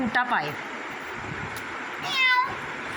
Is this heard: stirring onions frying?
no